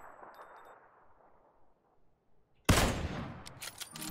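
Gunshots in the battle-royale game PUBG: a near-silent stretch gives way to a sudden, loud burst of gunfire, then a dense, sharp series of shots and cracks that continue to the end.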